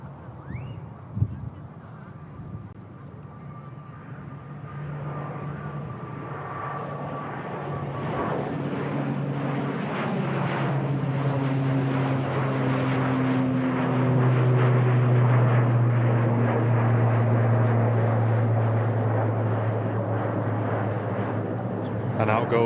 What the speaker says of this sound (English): The next aircraft to go out looks like it'll be a Scandinavian Flight 4610 heading off to Oslo in that classic Scandinavian colours, an A320.